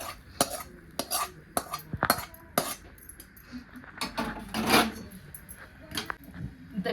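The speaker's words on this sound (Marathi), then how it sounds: "मी ह्याला एका ताटामध्ये थंड होण्यासाठी काढून घेते" A spoon scrapes and clinks against a metal pan and plate as fried onion and tomato are scooped out to cool, producing a series of sharp, close metallic taps and scrapes with brief pauses between them.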